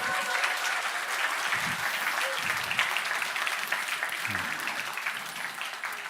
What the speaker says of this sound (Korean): 다시 한번 우리 큰 박수 해주시길 바랍니다